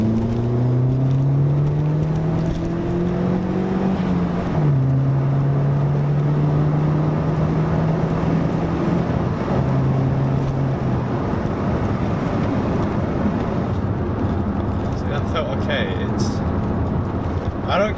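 A turbocharged car accelerates hard through the gears on a test pull, its engine note climbing, dropping at a gear change, then climbing again, loud and steady throughout under road noise.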